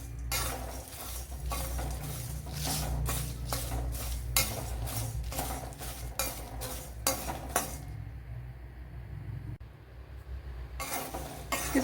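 A teaspoon of plain cumin seeds is dry-roasted and stirred in a pan with fennel seeds, a utensil scraping and clinking against the metal in a steady close-up rhythm over a faint sizzle, pausing briefly near the end.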